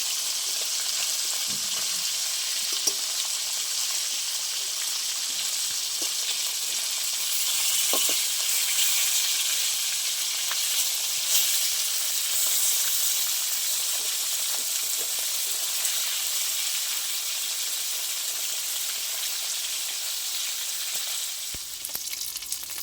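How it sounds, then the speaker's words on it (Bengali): Pieces of pona fish (carp) fry in hot oil and are flipped in the pan, giving a loud, steady sizzle that fills the whole stretch, with a few faint clinks and no talking. "এবার আমি মাছগুলো উল্টিয়ে দেবো। এক পিঠটা আমার ভালো ভাজা হয়ে গেছে"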